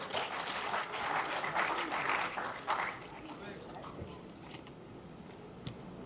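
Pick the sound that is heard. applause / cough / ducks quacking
applause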